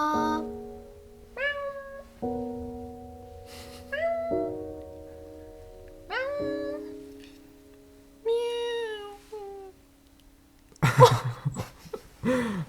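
A cat meows clearly several times, spaced a couple of seconds apart, close by, over faint sustained tones, ending in a short noisy burst.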